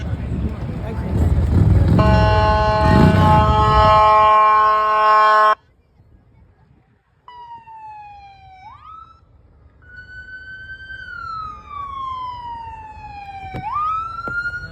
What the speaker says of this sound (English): you want to mess with the sirens?